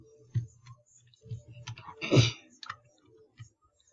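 Sharp computer mouse clicks while working with building tools in ROBLOX Studio, several quick close clicks in an irregular pattern, with a brief louder burst midway.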